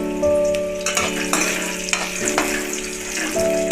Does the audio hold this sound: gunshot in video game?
no